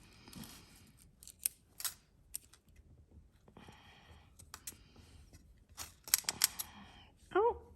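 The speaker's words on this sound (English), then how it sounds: "So let's continue to cut this rope because that might free some things up here." Scissors snipping through a tangled rope knotted among jewelry from a jar, several sharp close cuts scattered between quieter handling rustles in a quiet room, no talking.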